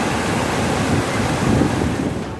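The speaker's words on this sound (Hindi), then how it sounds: "झालावाड़ के काली सिंधी बांध से करीब 6 लाख क्यूसेक पानी छोड़ा गया, जिससे झालावाड़ के निचले इलाके में सैलाब आ गया है।" Flood water released from the Kali Sindh dam near Jhalawar rushing through low-lying areas, a loud, continuous broadband roar with heavy wind buffeting on the microphone, steady for the whole stretch and with no voices.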